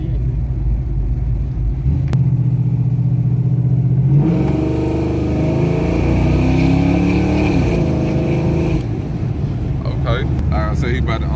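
A car with an LS 408 stroker V8 drives along, its engine a deep steady rumble that rises as it revs through gears, with wind buffeting and someone talking over it.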